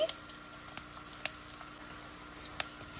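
Lemon rice stirred in a frying pan, a low continuous sizzle with a few sharp clicks of the spoon scraping against the pan, close and fairly quiet.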